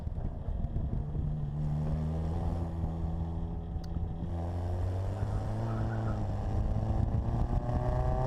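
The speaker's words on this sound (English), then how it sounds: "I'm kind of accelerating and decelerating." An Austin Healey Sprite heard from inside as it drives, its engine droning steadily with low harmonics that rise and fall as the car accelerates and decelerates, loud and continuous over wind noise.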